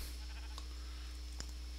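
A Minecraft sheep gives a short, faint bleat against a steady game background hum, with a brief sharp click following a moment later; no one talks.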